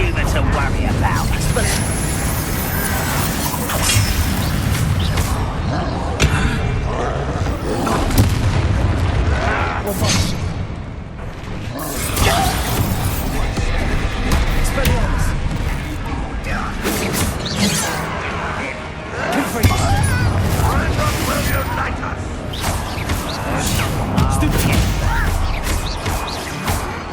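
Repeated Bombarda blasting-spell explosions from Hogwarts Legacy, loud and close, with heavy booms and crashing debris landing in irregular bursts over a steady din of combat.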